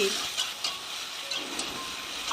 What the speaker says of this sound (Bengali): ঢাকনা খুলে একটু নাড়াচাড়া করে নিচ্ছি এখন আলুগুলো দিয়ে দিচ্ছি